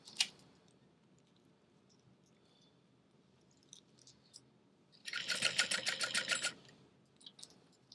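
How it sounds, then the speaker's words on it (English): A sewing machine stitches a clear vinyl bag, a close, fast rattling burst of stitches running about a second and a half after quiet handling noises, with a brief click at the start. "I am just sewing one after the other, but back stitching as I start each new one"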